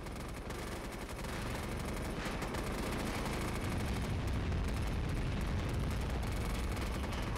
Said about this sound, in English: He's going to call in a cluster bomb to clear the enemy off this wall